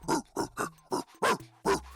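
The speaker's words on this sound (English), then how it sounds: "He sticks his face in yours and emits several short barking noises." Dog-like barking from the video game The Savage Empire: about six short, sharp barks in quick, slightly uneven succession, loud and close with no talking.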